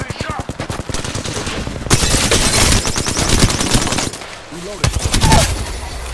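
Rapid automatic gunfire from Apex Legends rattles in fast bursts, with dense sustained volleys and brief pauses between them, loud and close, while a voice speaks faintly in the mix.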